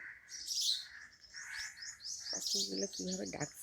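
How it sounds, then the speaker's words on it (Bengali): Birds chirp and tweet in quick, overlapping high calls, with a few lower cooing notes near the end. "দারুণ পাখি ডাকছে।"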